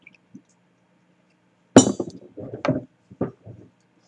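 Ceramic sake cups (ochoko) and a tokkuri flask clink together as sake is served: a sharp knock followed by a few lighter, irregular taps and clinks, close and distinct in a quiet room.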